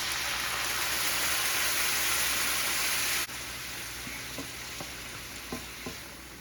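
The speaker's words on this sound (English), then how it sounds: "Now I'm adding my whole can of chopped clams along with all the juice." Canned chopped clams and their juice go into a sizzling pan: a loud, steady hiss cuts off abruptly and drops to a quieter sizzle, with a few light clinks of a utensil.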